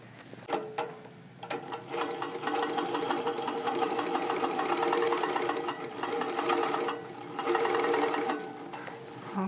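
Moxie longarm quilting machine running a basting stitch across a quilt, a fast, even mechanical whir of needle strokes that starts and stops in a few runs, close and fairly loud.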